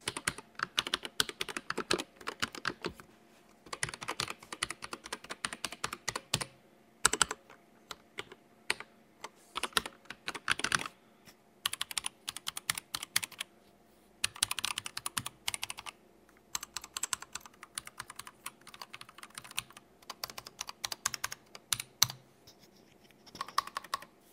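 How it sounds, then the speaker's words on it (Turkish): Keys on a Havit KB875L transparent RGB mechanical keyboard with red switches are typed in quick bursts with brief pauses, each press a soft, muted clack, close and clear, with no talking. "Şimdi gelin bir tuş seslerini yakından birlikte dinleyelim."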